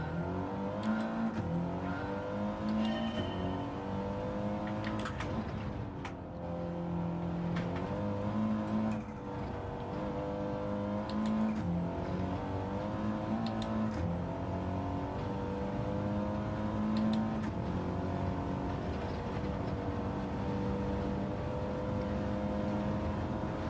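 A car's engine droning steadily during a test drive in a Gran Turismo 7 daily race, its revs climbing and dropping with repeated gear shifts, loud and continuous with no talking.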